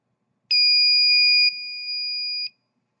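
A 2.3 kHz buzzer on an E1 environment controller sounds one steady, piercing electronic tone for about two seconds, dropping slightly in loudness partway through, then cutting off into silence.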